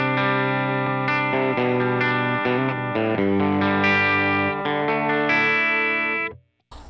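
Overdriven electric guitar through a Line 6 Helix amp model on firmware 2.60, playing a run of loud, sustained distorted chords with several fresh strums before cutting off abruptly near the end.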